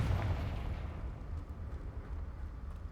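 Heavy rumbling blast from Bombarda and Confringo spell explosions in the Hogwarts Legacy video game, a loud booming roar that rolls on and slowly fades, with no voices.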